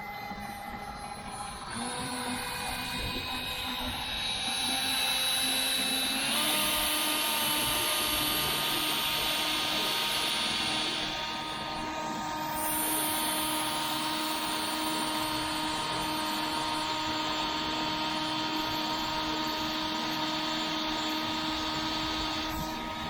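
A cordless drill rigged to drive a kayak runs with a steady, loud motor whine whose pitch shifts upward partway through, then holds constant with an outdoor wind-like hiss throughout.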